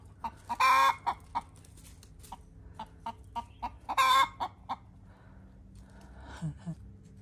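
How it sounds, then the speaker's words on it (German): A young hen clucks in short, sharp bursts with two louder squawking outbursts, scolding repeatedly amid other faint farmyard bird calls. "das ist das neue Hühnchen, was das schimpft."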